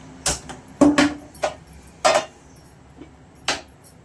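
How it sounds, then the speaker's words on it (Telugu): A metal pan clanks down onto a lit stove as chicken curry cooking begins, with several distinct knocks and brief metallic rings spaced across a quiet kitchen. "స్టవ్ వెలిగించుకొని ప్యాన్ పెట్టుకుందాం"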